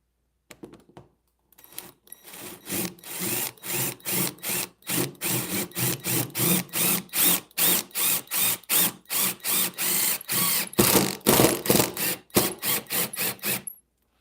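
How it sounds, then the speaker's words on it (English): A power drill runs in repeated short bursts into a boat, starting and stopping in a steady rhythm, close up and loud with a grinding bite into material. "Make sure you don't drill through the bottom of the boat."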